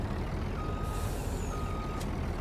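A farm truck in Farming Simulator 19 sounds repeated reversing beeps over a constant engine rumble, the tones thin and regular through the whole stretch with no talk.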